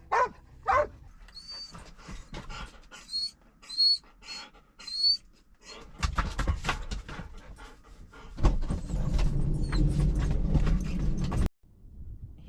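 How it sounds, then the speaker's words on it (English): Dogs pant and move about near a tobacco barn, with quick rhythmic panting and paw steps, then a burst of louder scuffling and rustling close to the microphone. "The dogs have had a drink."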